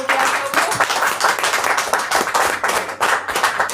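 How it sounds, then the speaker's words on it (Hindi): A crowd at a business training meeting breaks into loud, dense applause for a woman named Yashoda, with many hands clapping together at close range. "मैं चाहती हूँ यशोदा के लिए जोरदार तालियां होने की"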